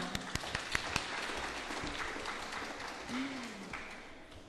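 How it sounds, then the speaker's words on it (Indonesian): Graduates and families at a psychology faculty graduation ceremony clap: a few distinct claps up front, then a faint, diffuse spread of applause in a large room, quiet and somewhat distant. "Tepuk tangan untuk kita semua."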